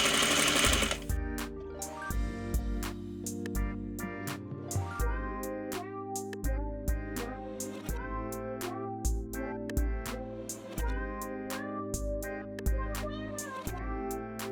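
A sewing machine stitches a trouser inseam with a 1/2 inch seam allowance, running in short, rhythmic bursts of rapid needle chatter separated by brief pauses, close and clear with no talking.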